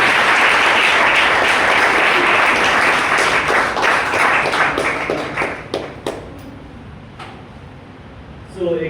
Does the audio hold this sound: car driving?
no